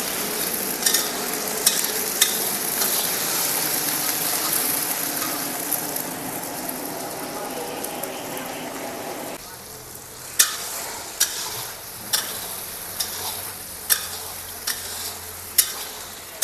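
Spice tempering (tadka) for spicy chicken pickle fries loudly in a pan, a dense close sizzle that eases partway through and is then punctuated by regular sharp scraping clicks of stirring.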